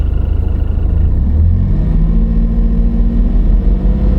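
A car engine rumbling loudly nearby, its pitch rising as it revs and then holding at a higher, steady drone.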